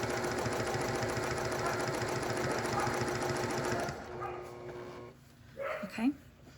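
A sewing machine stitches a quilt in a chevron pattern using a 5.5-inch diamond template. It chatters in a rapid, steady rhythm for about four seconds and then stops. A dog whimpers and barks briefly in the quieter moment afterward.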